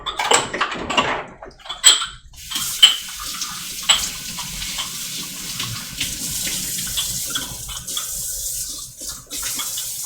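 Hot soapy water runs into a sink, a steady splashing gush with clinks of items being handled in it, fairly close, continuous throughout with no talking.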